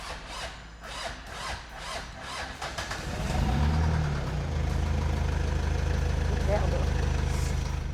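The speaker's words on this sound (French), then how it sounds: "Brice s'est rendu compte que le moteur tourne" A car engine turns over and settles into a steady idle partway through, a low continuous hum following earlier brief rustling and knocking sounds, with a voice speaking over it.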